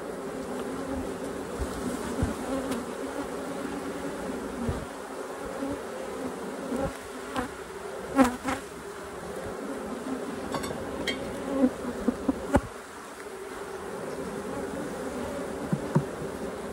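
Honey bees buzz steadily at close range while a hive is opened for a mite check. The dense hum holds for the whole stretch, broken only by faint clicks and knocks from handling the frames.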